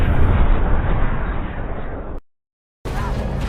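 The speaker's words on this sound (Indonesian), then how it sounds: "Bersama dengan itu, sebagian markas Redom meledak berkeping-keping." The Red Room base explodes in the film Black Widow, a loud roaring blast with a deep, dense rumble that cuts to silence for a moment before the booming roar returns.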